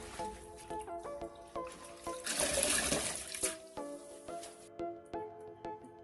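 Brine being rinsed off pickled vegetables: a close burst of running, splashing water for about a second in the middle, set among quieter clinks and steady background tones.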